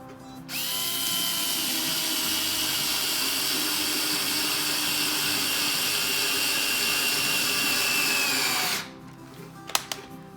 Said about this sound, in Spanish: vamos a poner un tornillo en la parte central